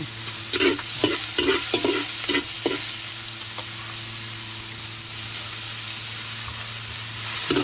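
Pork fat fries in a pan as it renders into oil, a continuous bright sizzle with several quick stirring scrapes early on, no talking.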